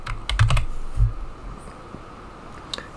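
Quick bursts of typing on a computer keyboard, close and clear at the start, then trailing off to a few scattered key taps over low room hum.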